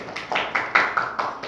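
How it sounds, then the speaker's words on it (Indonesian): A class clapping hands for students who finished their assignment, a quick run of about seven rhythmic claps, close and fairly loud against a faint background. "Tepuk tangan untuk semua."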